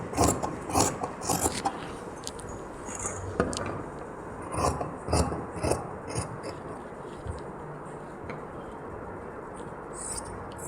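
Scissors rasp and scrape through blouse fabric along a marked curve, a steady sequence of close snips and cloth rustling with no talking.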